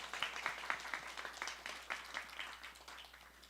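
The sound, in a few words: applause in church service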